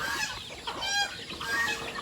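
Several chickens cluck and chatter close by in a busy, overlapping flurry, with no talking.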